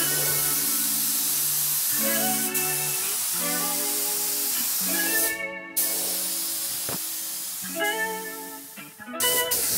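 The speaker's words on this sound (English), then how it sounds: "we're gonna go ahead and finish up the paint job right now, putting on the second layer of base" A spray gun lays a second yellow base coat on a Nissan 240SX in a home garage. Close, steady hissing bursts start and stop, over a layered humming drone.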